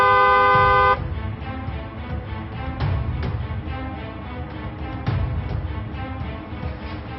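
Vehicle horns honk in traffic, one long blast at the start followed by shorter, scattered toots over a rumbling road background.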